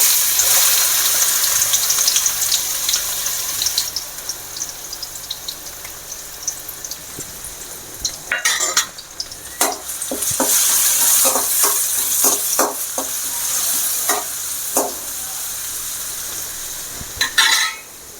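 Crushed garlic hits hot oil with a steady loud sizzle, broken by clattering stirs of a spoon against the pan.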